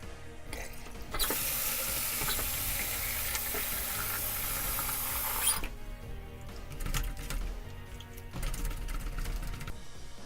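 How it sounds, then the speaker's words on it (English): Hot tap water pours steadily onto yarn spawning mops in a sink, a loud continuous rush that cuts off partway, followed by wet handling sounds and a brief second burst of flow. "I'm going to put them in some hot water just to make sure if there's any dye on them"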